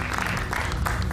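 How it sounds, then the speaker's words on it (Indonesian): A studio audience applauds on a televised talk show, a short, dense burst of clapping heard alone at steady loudness. "Kita berikan tepuk tangan Bung Pitra"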